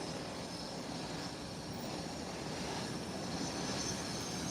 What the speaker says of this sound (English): the Ambria 120 is also taxiing towards the taxiway holding point